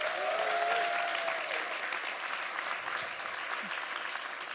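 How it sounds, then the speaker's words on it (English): Audience applause for Seb and the Lasers at a UCL engineering festival show, a steady, dense wash of clapping from a large crowd lasting throughout, with a few whistles or cheers near the start. "let's have another huge round of applause for Seb and the Lasers"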